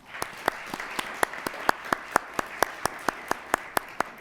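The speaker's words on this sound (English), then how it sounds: "let's give her a big round of applause" A single person's slow, evenly spaced claps, about sixteen sharp strikes over a soft room background, during applause at a school board meeting.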